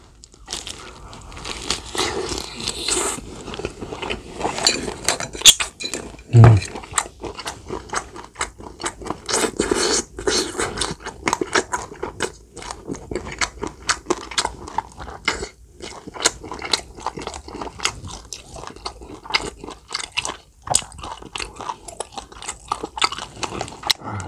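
Crispy grilled ogyeopsal pork belly and bibim noodles being eaten close to the mic, with dense, loud crunching bites and wet chewing sounds continuing steadily throughout.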